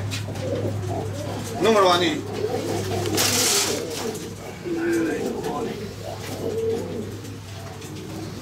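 Pigeons coo repeatedly under an arch on a rural farm, soft rolling calls heard close by between and under Spanish conversation, with a low steady hum in the background.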